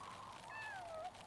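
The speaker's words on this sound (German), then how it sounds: "Da miaut es." A cat meows once in Yonder: The Cloud Catcher Chronicles, a single short drawn-out call that bends downward, faint against a soft background.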